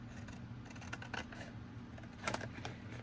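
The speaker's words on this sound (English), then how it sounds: "Now I'm going to cut this thing here off." Scissors cut through a cardboard food box for a junk journal cover, giving soft close snips and crunchy rasps in a few short bursts over a low background hum.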